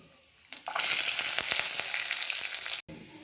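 Mustard seeds, curry leaves, onion, ajwain and peanuts sizzle and crackle loudly in hot oil, a dense continuous frying hiss that starts abruptly and cuts off near the end.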